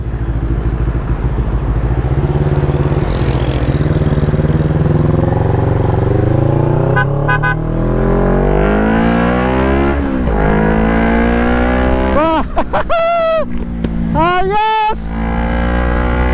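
A motorcycle engine running on fresh Gulf engine oil idles loudly up close, then revs upward in rising surges with sharp throttle blips near the end.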